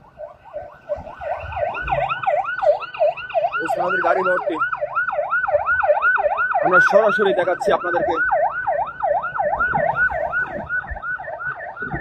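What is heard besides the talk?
ambulance siren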